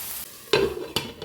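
Spinach and corn with cracked pepper tossed in a pan: two quick, close scraping tosses over a low sizzle.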